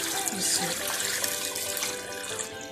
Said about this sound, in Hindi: हाफ जग में पानी का डाल रही हूँ।